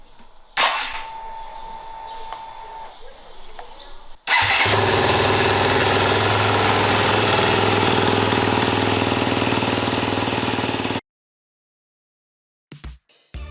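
KTM racing motorcycle on a maintenance stand: a short electronic whine and clicks, then the engine catches abruptly and idles loudly with a steady rough drone for about seven seconds before cutting off to silence, followed by a few faint clicks.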